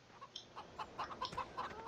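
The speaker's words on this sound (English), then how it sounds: "Oh, these chickens are so loud." Chickens on a farm in Goldcrest Valley cluck in a quick, uneven series of short calls, fairly close and with no voices over them.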